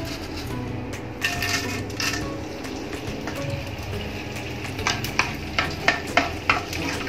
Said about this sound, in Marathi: आता आपण थोडा थोडा करून डिंक तळून घेऊया